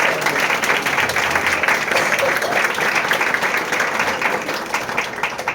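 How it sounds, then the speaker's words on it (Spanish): Steady audience applause for a guest at a university panel discussion, dense and even throughout with no voices breaking through. "les pido que le brindemos un fuerte aplauso"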